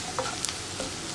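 Spice powders frying with soya chunks in a pan while being stirred for a soya masala dry roast: a steady close sizzle with a few light scrapes and clicks over about a second.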